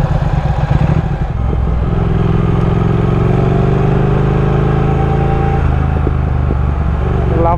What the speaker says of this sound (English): Love that exhaust note, man.